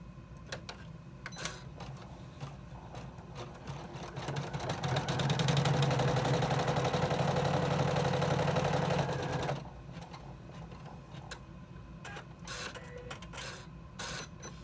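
A sewing machine runs a steady placement stitch to anchor the tab on a zipper key fob pouch. It whirs in one continuous run of about five seconds, then stops, with quiet handling noises before and after.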